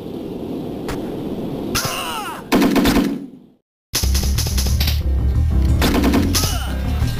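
Loud machine-gun bursts in Call of Duty: Modern Warfare 3: Defiance on Nintendo DS, rapid rattling volleys broken by a short silent gap, then more sustained fire layered over game effects.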